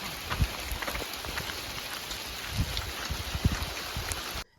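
Light drizzle falls outdoors near a hermitage hut in gloomy weather, a soft continuous patter of scattered drops with occasional louder taps, faint and steady, before cutting off abruptly.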